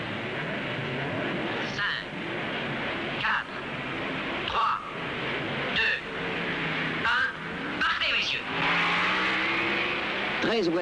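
1950s Grand Prix racing cars at the start at Spa's Raidillon bend, engines droning and revving as they accelerate away, with repeated rising passes heard under someone narrating in French.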